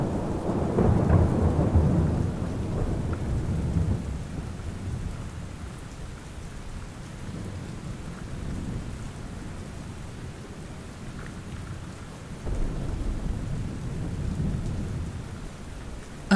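Steady rain pours down during a thunderstorm, with a low rolling rumble of thunder at the start and another swelling later, continuous and close with no voices.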